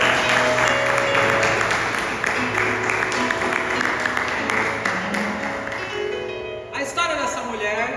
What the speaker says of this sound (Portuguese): Quem pode aplaudir ao Senhor nessa noite?